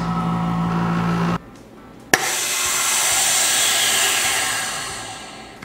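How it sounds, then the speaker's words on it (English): A Vevor chamber vacuum sealer works on a bag of water: a steady pump drone, then a sudden drop and a sharp click as the seal engages, followed by a long hissing rush of air returning to the chamber. "let's vacuum seal our make-believe soup"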